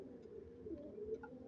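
Black-tipped pigeons in a home loft give soft, faint cooing, a few low murmuring calls over quiet background hiss.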